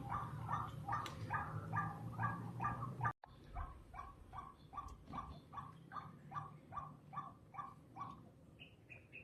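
A dog barks repeatedly in a quick, regular series, fairly close, with a brief cut partway through and faint birdsong in the background.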